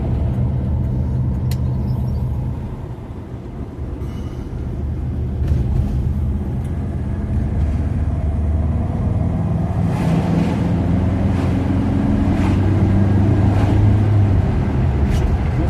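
A classic Ford Zephyr MKIV drives along, heard from inside as a steady, close low rumble of engine and road noise that dips briefly and then swells slightly with acceleration.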